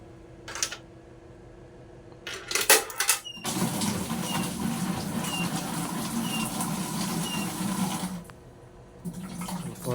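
Water gushing from a coin-operated water vending machine once its ball valve is opened: a few clicks and knocks first, then a steady splashing stream for about five seconds before it cuts off.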